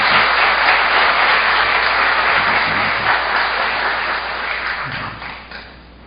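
A church congregation claps together in sustained applause, a broad and loud wash of many hands that holds steady and then gradually fades out near the end.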